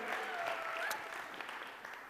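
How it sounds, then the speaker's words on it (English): A small group applauds at a nomads gathering, a soft, distant patter of clapping with faint voices mixed in, fading slightly toward the end. "big round of applause for the courage"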